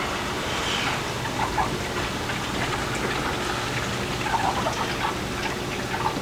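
Air purging from a cleaned aquarium canister filter on a 55-gallon fish tank, a steady watery hiss and rush with scattered bubbly gurgles, continuous and fairly close, with no one speaking.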